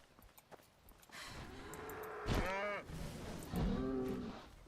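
A cow in the Skyrim video game lets out a couple of loud, drawn-out moos among footstep-like thuds, heard up close with no talking.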